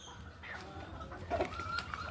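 Backyard chickens of Texas, Labuyo and Bantam breeds cluck softly amid faint farmyard ambience, with one or two brief closer calls.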